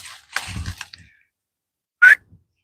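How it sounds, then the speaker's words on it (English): A person on a day hike gives a short, shaky whistle, a single brief rising tone near the end, after a few seconds of faint rustling and breathy sound. "That was a bad whistle."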